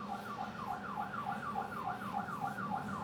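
Emergency vehicle sirens from a volunteer fire department and county ambulance responding to a scene, a rapid repeating wail that cycles steadily and stays loud and continuous throughout.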